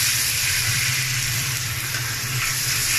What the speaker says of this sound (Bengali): লবণটা দিয়ে আমি একটু নাড়াচাড়া করে দিব